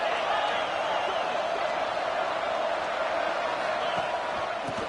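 Ole Miss football stadium crowd in a steady, dense roar of cheering and shouting, sustained and even throughout, distant and filling the space.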